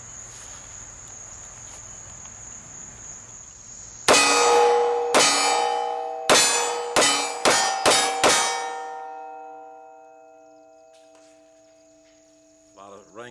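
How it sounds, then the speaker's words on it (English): Seven quick metallic clangs ring out as bullets from a Kimber Ultra Crimson Carry II pistol strike steel targets, each hit leaving a bright, sustained ring that slowly fades into quiet. "A lot of ringing steel there."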